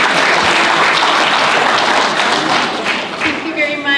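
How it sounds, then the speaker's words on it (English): Warm audience applause at an award ceremony, dense steady clapping from a large indoor crowd, loud and sustained, thinning slightly toward the end. "if you guys can all give a warm applause to Ms. Holland."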